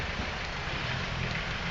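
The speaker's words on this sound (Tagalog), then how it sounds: "ulan ngayon" Steady rain falls on an off-road trail, a dense, even hiss of drops with no talk.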